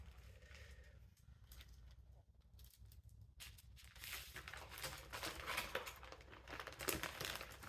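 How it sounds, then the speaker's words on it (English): Ziploc plastic bag crinkles and rustles as a Super Mario Bros. 3 game cartridge is slipped inside, soft at first and then louder, with continuous close handling. "No, first I'm going to put it in a Ziploc bag."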